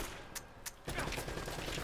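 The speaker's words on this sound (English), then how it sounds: "Give me a second to stop shooting." A short, dense burst of rapid gunfire from Uncharted: Drake's Fortune breaks in after a couple of isolated shots, loud and close, with no voices over it.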